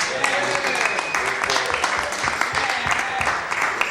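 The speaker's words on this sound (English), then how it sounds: "let's give a rousing round of applause for the Cannabis Cup and the High Times Hemp staff" An audience applauds at a Cannabis Cup event, dense sustained clapping and crowd noise filling the whole stretch at steady loudness.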